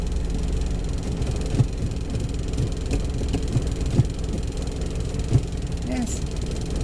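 A car engine idles with a low, steady rumble during a driving lesson, with a few soft knocks and clunks from inside the cabin and a voice speaking briefly near the end.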